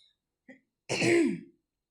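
A single short, rough cough from someone with a cold, like a throat being cleared, follows a tiny faint noise in otherwise quiet surroundings.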